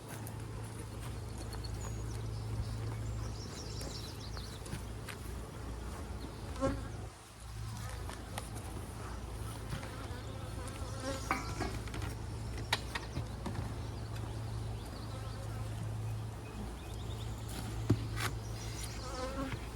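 Honey bees hum steadily around a polystyrene hive during smoker use, a dense close buzz that fills the whole stretch with scattered louder passes and a brief dip partway through.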